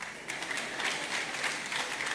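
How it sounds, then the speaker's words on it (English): Brief, fairly faint clapping from a conference audience during a growth masterclass session, scattered claps with a soft room ambience. "If you are clapping, clap."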